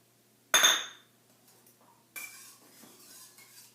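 Spoon stirring tamarind pulp into coconut milk in a bowl, with one loud clinking scrape followed by softer intermittent scraping and clinks, close and alone.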